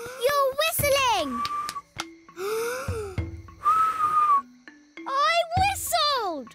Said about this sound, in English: I did it! I can whistle!